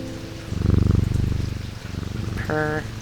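A cat purrs in low, rhythmic pulses, close and steady, with a brief tonal chime near the end, in the video game Strange Antiquities.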